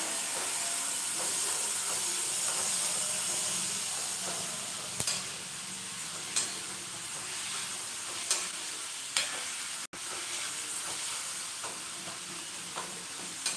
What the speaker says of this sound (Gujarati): ડુંગળી સોતળાવા માંડી છે